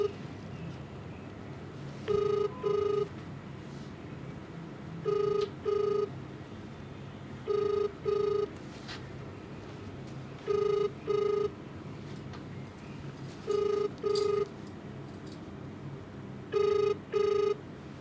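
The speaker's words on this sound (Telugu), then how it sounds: "మీరు కాల్ చేస్తున్న ఫోన్ ఎత్తలేడు ఆయన." Telephone ringing unanswered, a quiet indoor line giving repeated paired rings at even intervals, six double rings in a row with a hiss of background between them.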